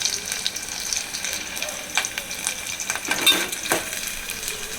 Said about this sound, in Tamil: பாருங்கள் பூண்டு பொரியுது.